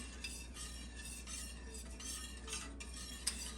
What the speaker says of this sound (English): You have to continually stir this or you will scorch the bottom of the pan.